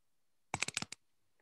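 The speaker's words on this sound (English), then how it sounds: "forgive my typing." A quick burst of about six crisp keystrokes on a computer keyboard, close and fairly quiet, set in near silence during an online workshop meeting.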